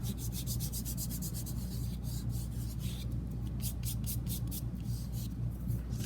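Glued paper being pressed and rubbed down by hand onto a mixed media collage gives a steady, continuous soft scraping and rubbing close by, with no talk.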